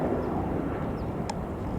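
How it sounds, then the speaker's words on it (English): A fixed-wing airplane drones steadily overhead, distant and broad, above a water recycling facility construction site in Playa del Rey, Los Angeles. "And there's another airplane. I don't see him, but he's there."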